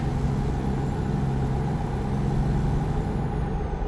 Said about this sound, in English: so you can really hear the sounds of the truck and the engine